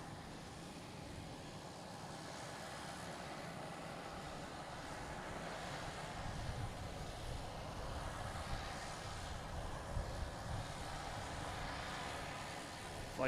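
JetBlue Airbus A321 from Detroit landing at Boston Logan, a faint distant jet rumble that swells gradually over several seconds amid wind noise on the microphone.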